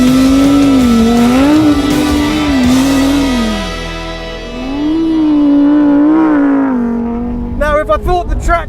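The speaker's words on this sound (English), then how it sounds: "launching an off-road supercar at a track in the middle of the desert" A Lamborghini Huracan Sterrato off-road supercar driving on a desert track, its engine note rising and falling in loud, close sweeps through gear changes, ending in brief choppy bursts.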